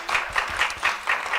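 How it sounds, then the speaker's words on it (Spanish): An audience applauds participants at an academic panel event, steady moderate clapping in repeated pulses lasting the whole moment. "Les pido un fuerte aplauso."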